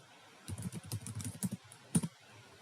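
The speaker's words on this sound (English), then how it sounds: "To begin a search, I'll type in a keyword." A short burst of keystrokes on a computer keyboard as a search keyword is entered, quick clustered taps with a louder final press, fairly close and alone.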